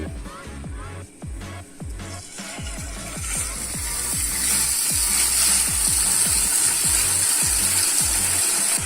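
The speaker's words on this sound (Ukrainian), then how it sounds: "Викладаємо стек червоної риби, посипаємо спеціями і готуємо 5 хвилин на повільному вогні." A salmon steak fries in vegetable oil in a pan. The sizzling hiss swells and grows steadily louder partway through, with a regular run of dull clicks and taps underneath.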